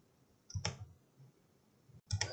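Computer mouse clicks while modelling a Star Wars book page marker in DesignSpark Mechanical CAD software, two short, faint, close clicks about a second and a half apart in a quiet room.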